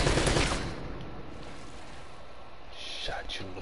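Gunfire in Uncharted: Drake's Fortune, an opening burst of shots followed by scattered cracks and impacts over background game sound, with a voice speaking near the start.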